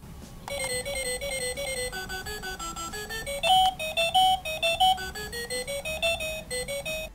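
A digital projection clock plays its alarm tone, a bright electronic melody of stepped beeping notes cycling continuously and loudly, with no voices.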